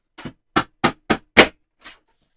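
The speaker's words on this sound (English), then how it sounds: "just trim the edge off that" A paper trimmer slices the edge off a piece of card during card making, giving a quick series of five or six sharp, close clicking cuts with short gaps between them, the last one fainter.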